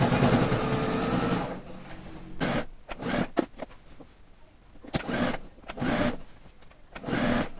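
Sewing machine stitching bias tape around the neckline of an upcycled patchwork quilt coat, close-up bursts of rapid mechanical whirring separated by short pauses, with no talk.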